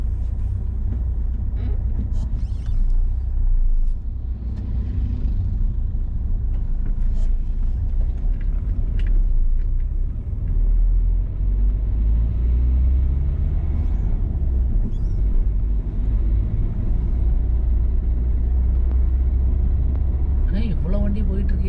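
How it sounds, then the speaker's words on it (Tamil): Road traffic moves through a forest near Munnar in heavy numbers, with a continuous loud low engine rumble and passing vehicle noise heard from inside a moving vehicle, and a person talking over it. "இவ்வளோ டிராஃபிக் நான் ஃபஸ்ட் டைம் பார்க்குறேன் இந்த ஃபாரஸ்ட்டுக்குள்ளே"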